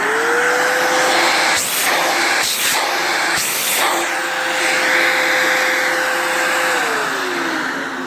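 A Kenmore Progressive canister vacuum cleaner runs loud and close with a steady motor whine and airy hiss, broken by three brief suction-change surges before the pitch drops slightly near the end.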